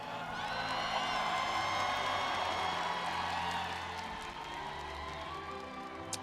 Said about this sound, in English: Please give a round of applause for FaZe.